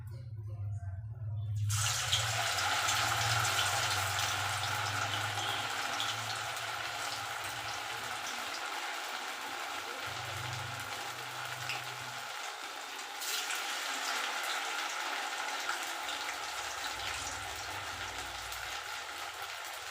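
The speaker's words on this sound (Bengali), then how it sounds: "তেল গরম হয়ে গেছে এবার আমি একটা করে বড়া" Sago pakoras dropped into hot oil and frying, a steady soft crackle and sizzle holding at an even level throughout, with a faint low hum in the background.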